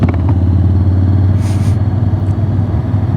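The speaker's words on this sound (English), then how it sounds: "does it help with the wind noise on my helmet? Let's see how it is if I open the visor." Loud, steady wind buffeting and rumble inside a helmet with the visor open while riding a Honda X-ADV 750 fitted with a tall windshield, a low engine drone running continuously beneath the roar.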